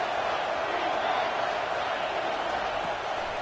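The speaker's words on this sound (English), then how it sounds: "this crowd is tearing the lid off this place" A dense stadium crowd roars continuously in a college football video game, a broad steady wash of cheering voices with no break.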